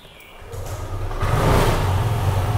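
A motorcycle engine is started during an exhaust-emissions check: quiet at first, then a rough, rising rumble catches and grows louder near the end.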